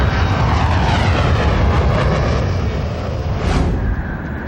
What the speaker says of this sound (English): It's only when the plane finally breaks free of the clouds that Captain Ho is able to regain control of his plane.